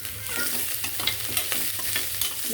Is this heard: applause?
no